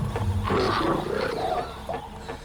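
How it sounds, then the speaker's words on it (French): A big bear roaring as a sound effect, a deep, rough growling roar in a couple of rising and falling bursts, close and loud, tapering off near the end. "arrive un gros méchant ours qui vient manger votre tente, vos provisions"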